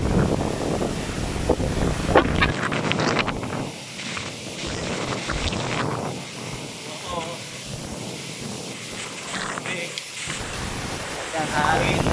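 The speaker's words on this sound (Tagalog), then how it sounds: "Lakas ng hangin." Strong typhoon wind roars and buffets the microphone in gusts, with rustling bamboo and leaves nearby, while a person talks over the steady loud rush.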